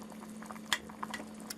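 Soft bubbling and popping of fish soup with provisions boiling in a pot, with a faint steady hum underneath and a few sharper pops.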